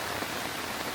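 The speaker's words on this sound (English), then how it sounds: "it starts raining and we had to run back" Rain falling steadily at a campsite, a dense even hiss of drops close around with no break across the short span.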